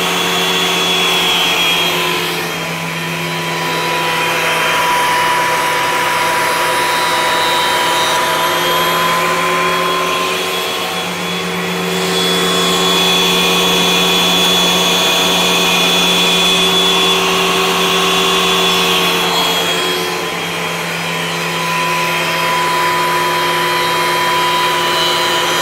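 A Forstner bit bores through wood nearly all the way, giving a loud, steady high-pitched whine with bright tonal bands that swells and dips slightly across the passes, continuous and close with no talk.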